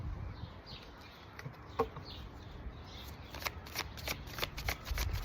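Tarot cards are shuffled by hand, a soft riffling flutter that builds into a run of quick crisp card slaps toward the end, quiet and alone.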